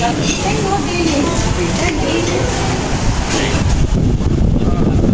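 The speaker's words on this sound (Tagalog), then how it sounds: "It's windy." Wind blows at a beach resort in Boracay, a steady close rumble buffeting the microphone throughout, with faint voices in the background.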